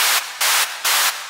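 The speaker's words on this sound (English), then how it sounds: "you can kind of hear that's the high component of my white noise sound" White noise on a Haken Continuum EaganMatrix synthesizer, passed through a high-pass filter, comes as bright hissing bursts that pulse on and off in a rapid uneven rhythm, loud and alone.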